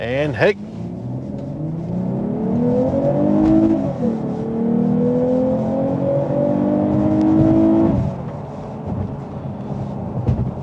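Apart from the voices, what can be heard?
Lexus IS350 F-Sport engine and exhaust accelerating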